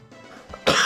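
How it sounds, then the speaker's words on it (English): A single harsh cough bursts out after a bong rip, following a brief quiet breathy lead-in, loud and close. "breathing in is where the coughing starts"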